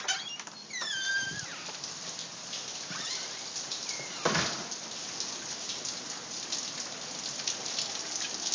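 Hail and heavy rain pelt grass, a flower bed and a truck during a storm, a dense steady patter with a few sharper impacts, no talking.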